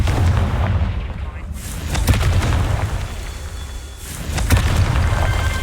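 Confringo spell blasts in the game Hogwarts Legacy, rumbling booms and crackling bursts with a dense low roar, recurring every couple of seconds, under a voice.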